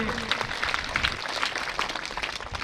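At a school annual function and awards ceremony, the audience gives a class 3 first-place student a thick, even wash of applause from many hands that carries on steadily throughout.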